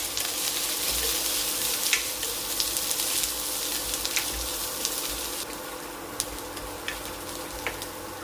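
Dried red chillies, chopped garlic and ginger sizzle and fry steadily in a hot pan, a continuous soft crackle with faint pops and clicks, no voices over it.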